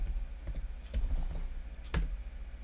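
Password being typed on a computer keyboard, a short run of close, crisp key clicks in an irregular rhythm with one sharper keystroke near the end, alone in a quiet room.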